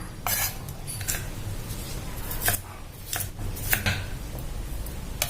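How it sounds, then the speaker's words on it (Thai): Quick knife strokes dicing cucumber on a cutting board, irregular chops with light clinks, no talking. "เรามาหั่นส่วนของตัวแตงกวานะคะ สี่เหลี่ยมลูกเต๋าค่ะ"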